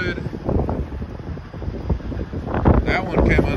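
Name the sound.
strong wind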